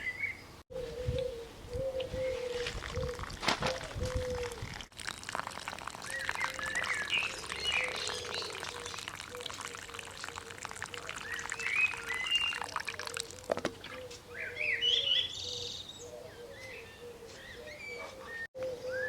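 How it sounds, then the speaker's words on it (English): Water is poured from a can into planting holes in garden soil, a steady trickling splash that runs on and off while birds call and coo nearby. "I'm just going to fill each hole up with water and let that drain down"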